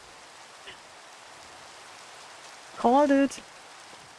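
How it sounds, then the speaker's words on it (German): Steady rain hisses across the whole stretch in the video game Minecraft, an even wash of falling-rain noise, with a short spoken remark near the end. "Ich wette, außerhalb regnet es."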